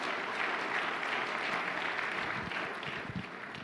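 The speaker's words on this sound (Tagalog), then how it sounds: "Nakasan niyo yung palakpak niyo." Congregation applause during a church service, a dense, fairly close clatter of many hands that runs steadily and begins to thin toward the end.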